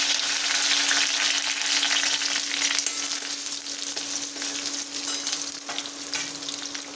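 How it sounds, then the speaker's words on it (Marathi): Chopped onion frying in hot oil for a katule curry, a steady close sizzle with faint stirring scrapes under a low constant hum, no voices. "तेल टाकलं, कांदा,"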